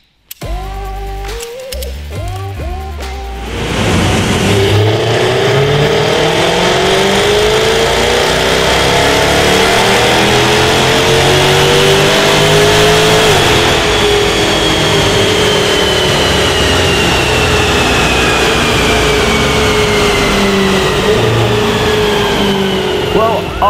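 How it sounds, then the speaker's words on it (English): An upgraded Jaguar F-Type revs hard on a dyno, rising from a brief idle into a long, loud, sustained full-throttle pull that gradually climbs in pitch. "It's time to get the car off the ramp and back onto the dyno to find out what difference all those upgrades have made."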